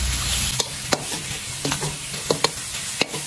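Catfish stir-frying in a pan sizzle continuously while a utensil scrapes and knocks against the pan in a series of sharp, irregular strokes.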